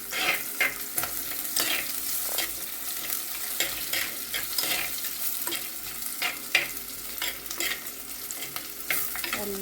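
Curry leaves sizzle and crackle in hot oil in a pan for fish curry, a steady frying hiss broken by stirring scrapes and sharp pops.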